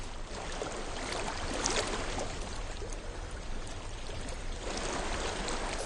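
Stream water flows steadily in the video game Hellblade, a continuous soft rushing and burbling that stays even throughout with no voices.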